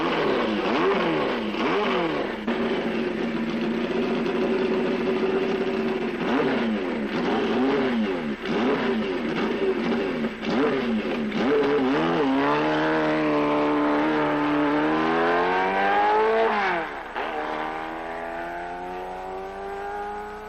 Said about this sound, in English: Yvonne Duhamel takes the Z1 around the 2-mile oval wide open